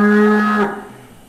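A single loud, close moo from a head of cattle at a market selling cows for Eid sacrifice, a sustained tonal low that fades away after about half a second, with no talking.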